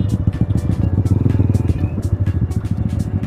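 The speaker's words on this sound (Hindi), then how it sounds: "तो बाइक हो चुकी है वार्म अप पूरी" A warmed-up Yamaha R15 motorcycle engine runs steadily close by, a dense low rumble with a quick pulsing beat and occasional higher rattles, with no voices.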